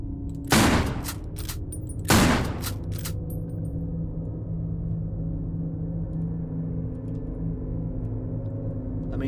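Two loud, sharp gunshots ring out close together near the start of a Halloween horror video game, followed by a steady low rumbling game ambience with no speech.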